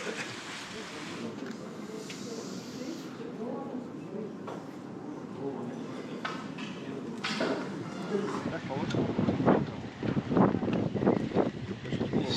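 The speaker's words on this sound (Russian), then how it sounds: "сейчас ветер сильный и волны" Strong wind buffets an open boat during a race on the Caspian Sea, a steady low broadband roar with microphone gusting and water noise, building louder toward the end while people talk over it.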